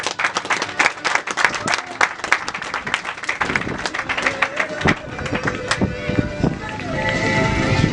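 An audience at an evening political talk claps for a speaker being invited up. The claps are brisk and crisp and rise over the crowd, then blend into a steady wash with voices underneath.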